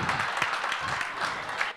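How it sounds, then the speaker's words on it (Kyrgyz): An audience at a wedding roast claps steadily for a short stretch, with faint talk underneath. "Кол чаап коштоп турабыз."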